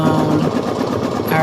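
An embroidery machine runs steadily nearby with a loud, even mechanical hum and rapid stitching chatter, continuous for the whole moment without a pause.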